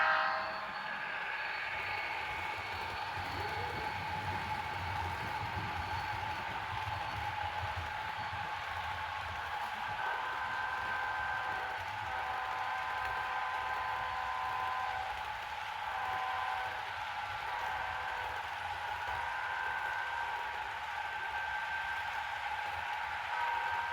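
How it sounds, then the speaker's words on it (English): A freight train with an FP45 and an SD45-2 locomotive rumbles past at a distance in a long, steady roar, with faint metallic squeal tones holding throughout. "train number 345 comes through, with a FP45 and Kodachrome"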